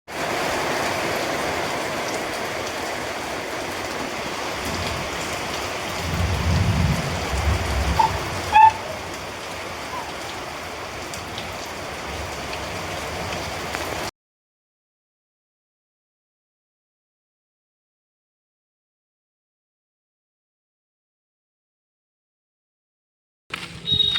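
Steady, dense rain falls outdoors as an even broadband hiss for about fourteen seconds, with one sharp tap. It then cuts to silence before a brief return of noise at the very end.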